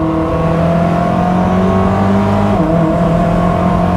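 A loud, steady Koenigsegg Jesko engine note holds and climbs slightly in pitch, the hypercar accelerating continuously with a smooth, high-revving drone throughout.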